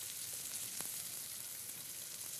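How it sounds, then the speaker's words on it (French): Chicken stock hits a hot pan during deglazing and settles into a simmer, giving a steady, dense bubbling sizzle up close that runs without a break, with one faint clink partway through. "Et là, on déglace avec le fond de volaille"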